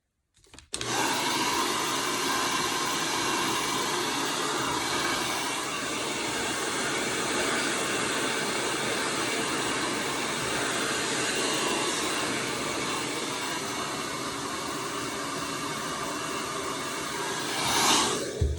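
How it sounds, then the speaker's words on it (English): A handheld hair dryer blows steadily and loudly while hair is being blow-dried, a continuous broadband whoosh that starts after a brief click and runs unbroken for the whole stretch, with a slight shift near the end. "So I'm gonna blow dry my hair quick"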